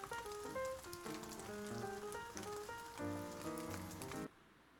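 Rain patters steadily on a surface, a continuous soft hiss with gentle tones playing over it, then cutting off abruptly near the end.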